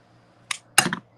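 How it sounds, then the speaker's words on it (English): Two quick, crisp snips of scissors cutting linen thread, close up: a short first cut followed a moment later by a louder, slightly longer one, in an otherwise quiet room. "I've got some linen thread that I'm just going to cut"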